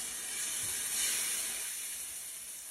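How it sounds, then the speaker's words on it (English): An air fryer running on its crisp setting with salmon cakes in the crisping basket gives a steady, even hiss, close by and constant, with no talking. "we're going to go over to our air fryer, and it's on crisp right now"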